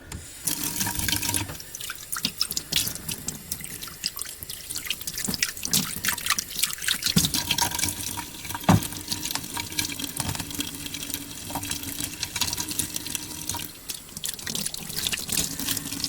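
Distilled water from a gallon jug splashes and trickles into a container as it is rinsed, a continuous close wet patter with scattered drips and no talking.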